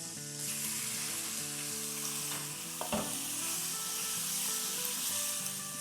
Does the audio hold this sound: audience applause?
no